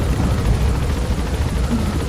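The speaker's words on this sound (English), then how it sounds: "It's just a loud helicopter. It's a reasonably loud helicopter." A loud helicopter in a video game keeps up a steady, churning rotor thump that runs through the whole moment with no pause.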